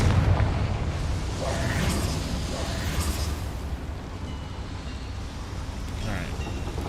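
A Confringo spell explosion in Hogwarts Legacy lands as a dense, sustained rumbling blast that fills the low end and rolls on for several seconds under game ambience.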